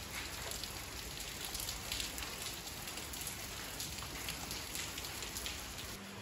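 Steady rain falls outdoors during a March downpour, a dense continuous hiss of drops striking surfaces that stays even and fairly loud throughout, with no voices.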